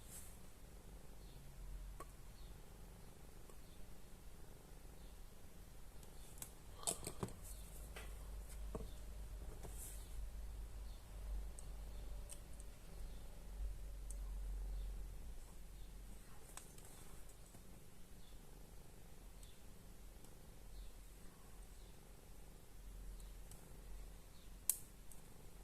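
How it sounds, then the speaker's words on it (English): Several faint, small plastic clicks from a 1/35 scale Dragon StuG III Ausf.G 10.5cm model kit part snapping snugly into place, scattered over a low steady hum with no talking. "There was a small clicking sound there."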